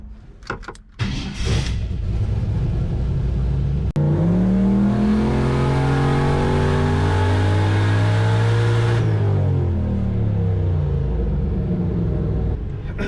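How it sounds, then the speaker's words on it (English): Turbocharged car engine running E85 without an intercooler, cranking and starting after a few clicks, then revving up with climbing harmonic tones, settling back to a steady idle, close and loud with no talk. "So I'm gonna warm the car back up"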